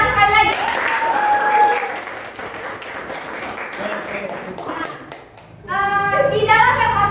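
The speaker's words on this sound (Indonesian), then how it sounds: "Tepuk tangan sekali lagi." Classroom applause breaks out for several seconds as a group claps together, with voices speaking just before and right after it.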